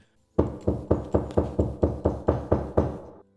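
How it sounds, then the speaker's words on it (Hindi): Eleven firm, evenly spaced knocks on a door, loud and close, in a steady rhythm with sharp attacks and brief decays, with no talk. "3 बजते ही चुकंदर देव ने दरवाजे पर दस्तक दी।"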